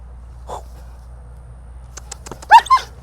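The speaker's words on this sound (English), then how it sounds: "So I want the dog to be vocal." A Malinois or German Shepherd during a prey evaluation gives a few short whimpers and sharp yips, mostly clustered near the end, against a quiet outdoor background.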